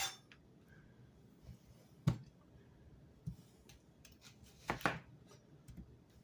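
A knife cuts onion for a homemade beef stew on a board, a few sparse, distinct close chops separated by quiet pauses, including a double strike near the end.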